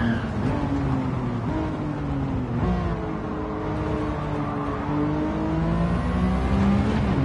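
A Toyota Supra in Gran Turismo 7 revs hard around a circuit, its engine note climbing and dropping with gear changes in a loud, steady drone, with tyre and wind noise underneath.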